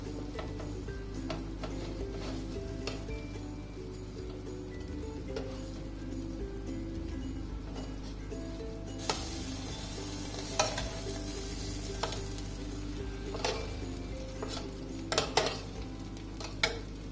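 Roast chicken being checked and turned in the oven: a low, faint sizzle with scattered clinks and taps from the tray and utensils, growing a little brighter partway through.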